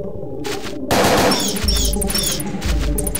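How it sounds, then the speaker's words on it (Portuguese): Gunfire against enemies in the PlayStation game Parasite Eve 2 comes as a sudden burst of rapid shots with heavy low booms and sharp metallic clicks, loud and close. "Atira no inimigo"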